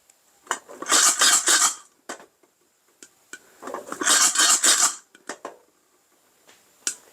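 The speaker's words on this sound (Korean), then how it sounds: "따닥따닥 터지는 소리 나죠. 예, 여기 1차 팝입니다." Rapid crackling pops of coffee beans reaching first crack while roasting in a pot arrive in two dense bursts with scattered single pops between, close and fairly faint, with no talking.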